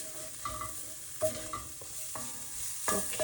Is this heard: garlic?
yes